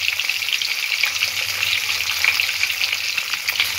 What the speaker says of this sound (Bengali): মাছটা একটু হালকা ব্রাউন করে ভেজে নিতে হবে।